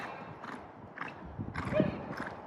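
A horse canters through a jumping lesson in a steady rhythm of hoofbeats, moderately close, and a short neigh comes near the end.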